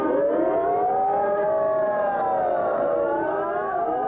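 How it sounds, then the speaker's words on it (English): A civil defense air raid siren wails in Israel, its rising and falling tone sustained and loud throughout, with layered harmonics and no talk over it. "I'm an air raid siren."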